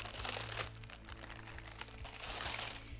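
Baking paper crinkles and rustles in quick, uneven bursts while being laid over an apple cake with caramel, close but quiet, over a low steady hum in a kitchen.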